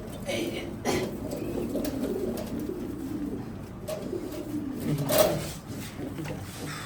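Foreign drake pigeons of the Stephen inverse variety cooing inside a loft, soft low coos repeating under someone talking nearby, with a few louder thumps.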